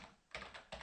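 Keystrokes on a computer keyboard during an Angular setup, two distinct bursts of quick clattering taps, close and moderately loud, separated by a short pause.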